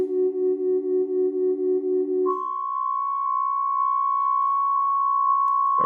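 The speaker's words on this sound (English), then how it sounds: "we created a tone system which creates tones with these kind of pipes" A robotic music system plays tones through pipes, sounding like a steady low organ-like chord with a pulsing rhythm that shifts to a single sustained higher pure tone, clear and alone, ending with a brief low thump.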